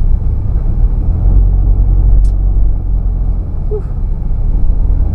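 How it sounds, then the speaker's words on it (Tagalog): Steady low car rumble from a long traffic jam on a crowded road, a continuous drone of idling and creeping vehicles with no talk and a brief faint higher tone partway through. "hindi ko akalain na na aabutin ako ng traffic dito ganitong kahaba"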